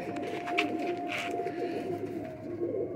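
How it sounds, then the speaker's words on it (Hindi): Ferozpuri breed pigeons cooing in a steady, low murmuring chorus close by, continuous through the moment with soft fluttering and faint background noise. "ये बड़े मेकर कबूतर हैं"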